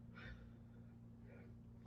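A single sharp sneeze bursts out at the very end, loud and sudden, following a couple of faint breathy intakes over a steady low electrical hum.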